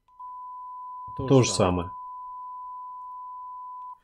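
A steady, thin electronic test tone from one headphone channel runs unbroken for about four seconds, with someone briefly speaking over it in the middle.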